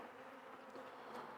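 Honey bees buzz densely on a frame from a nucleus colony being installed in a hive, a steady close swarm hum with no voices.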